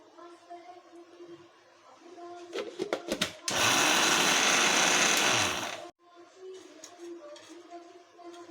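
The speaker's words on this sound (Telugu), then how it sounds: "ఇట్లా నలగొట్టి పెట్టుకొని యాలకులు వేసి మిక్సీకి ఆడిచ్చేసేయాలండి." Mixer grinder grinding crushed jaggery with cardamom: a few rattling clicks as it is set up, then a loud steady whir for about two and a half seconds that stops abruptly, with quieter background sounds around it.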